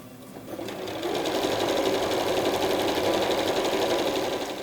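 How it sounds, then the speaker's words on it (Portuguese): A sewing machine runs steadily, stitching a straight seam from start to finish on a Christmas table runner, a continuous close whir with no talking. "vou fazer uma costura reta do início até o final"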